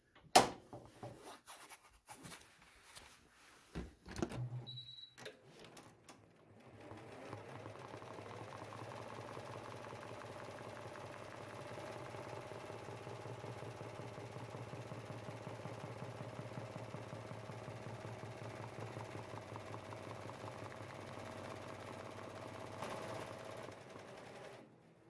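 An embroidery machine sews the tack-down stitch on an in-the-hoop USA flag patch, starting after a few handling clicks and then running as a steady, close, even mechanical stitching hum for most of the clip.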